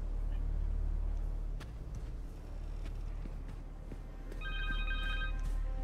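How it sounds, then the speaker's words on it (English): A phone rings in the Spider-Man 2 video game, a faint electronic tone near the end that rises above a rumbling, droning game background, with no clear talking. "The phone."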